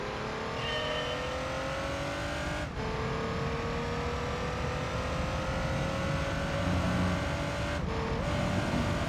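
Car engine in the Gran Turismo 3 racing video game, revving high and steady with rising pitch, briefly cut by two sharp gear upshifts before climbing again, loud and continuous with no talk.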